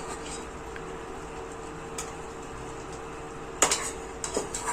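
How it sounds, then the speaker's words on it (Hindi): Cooked rice is served from an opened pressure cooker in a home kitchen during preparation of a Kumaoni meal, with a low background hum, then a few sharp, close metallic clinks and scrapes of a spoon against the pot near the end. "तो फिर मैंने कुकर खोला और इसमें मैं भात जैसी मैं इसमें रखने लगी ना"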